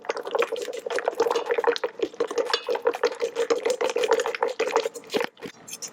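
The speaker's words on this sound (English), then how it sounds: "Now we're gonna whisk our egg yolks until they're nice and smooth." A whisk beats egg yolks in a bowl for chiffon cake batter, making quick, steady rhythmic strokes that are loud and close throughout.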